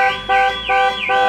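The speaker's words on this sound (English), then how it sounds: "Trust me to press my alarm button." An alarm set off by an accidentally pressed alarm button wails loudly and steadily, rising and falling in three repeating cycles with no voices over it.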